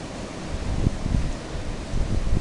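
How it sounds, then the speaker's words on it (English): Strong continuous wind of 35–40 mph with gusts up to 50 roars across the microphone as a broadband rush, swelling in bursts, with no speech. "We got 35-40 mile an hour winds staying continuous and gust up to 50"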